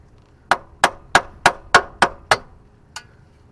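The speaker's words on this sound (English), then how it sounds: "I'm going to thread the old nut back on it just to hit it with a hammer." Seven sharp, evenly spaced metallic hammer blows strike an old nut threaded onto a Honda Accord CV axle, then one lighter tap after a pause. The hits are loud and close, each ringing briefly, with no talking.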